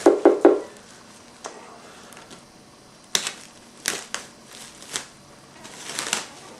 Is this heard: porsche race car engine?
no